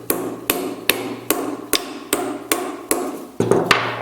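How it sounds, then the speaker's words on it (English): A hammer strikes a claw washer onto the inner tie rod of a steering rack being rebuilt, nine or ten sharp, evenly spaced metallic blows at close range with no talk. "you are going to get a hammer and you are going to hammer"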